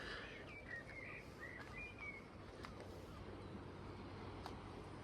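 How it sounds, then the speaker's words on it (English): A blackcap sings faintly in the background near Flowersbrook on the Isle of Wight, its brief warbling phrases coming early and thin over a quiet, hissy outdoor ambience. "There's also a blackcap singing."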